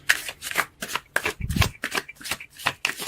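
Tarot cards are shuffled by hand in quick, crisp riffling bursts, close and rhythmic, with no talk.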